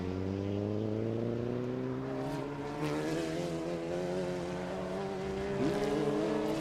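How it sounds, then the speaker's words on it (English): A Dallara EXP race car at Sebring during a historic Trans Am race, its engine a loud, sustained drone with rising pitch as it accelerates past, steady and close throughout with no pause. "There's that Dallara EXP being piloted by Joe Cawley"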